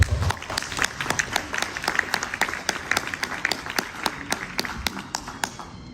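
Applause at a book presentation, with a handful of distinct claps ringing out sharply and rhythmically over a softer crowd clapping, close and fairly loud.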